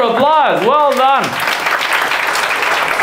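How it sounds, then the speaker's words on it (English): A stand-up comedy crowd in Bucharest breaks into applause after a drawn-out, wavering shout from the room, the clapping then filling the rest steadily and loudly. "A round of applause, well done."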